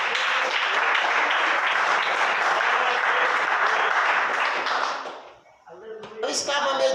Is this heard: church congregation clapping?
yes